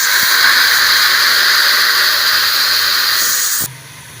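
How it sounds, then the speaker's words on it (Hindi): Ginger garlic paste is added to frying onions, giving a loud, close, hissing sizzle that holds steady for a few seconds and then drops abruptly to a quieter simmer. "फिर हम इसमें ये अदरक और लहसुन का पीसा हुआ पेस्ट डालेंगे।"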